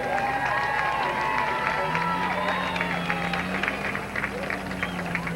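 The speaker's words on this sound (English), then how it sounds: "Nice big round of applause" A grandstand crowd at Midvale Speedway in 1999 applauds and cheers for a driver, a broad, moderately loud roar of clapping and voices with a steady tonal hum running underneath.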